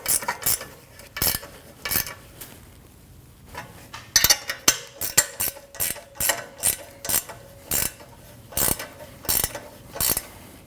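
A ratchet clicks in rapid bursts as it tightens the two driveshaft bolts on a 2013-2019 Ford Escape, with repeated close, sharp ratcheting strokes separated by short pauses and no talking.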